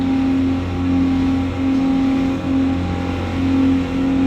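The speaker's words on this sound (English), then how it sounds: "there's no problem putting the sticks down on these twin Suzuki 350 horsepower engines" Twin Suzuki 350 horsepower outboard engines push an offshore fishing boat, a steady loud mid-pitched drone with a constant tone and gentle surges in level, no talking.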